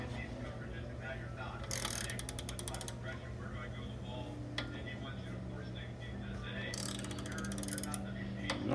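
Ratcheting clicks from a wrench tightening the crank arm bolt on an indoor cycle, in two quick bursts of close, crisp clicking over a low background hum, with faint creaks between.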